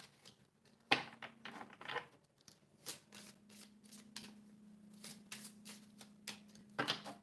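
A deck of reading cards is shuffled by hand in a quiet room, a series of quick papery riffles and flicks in irregular bursts, close and soft with a faint steady hum beneath.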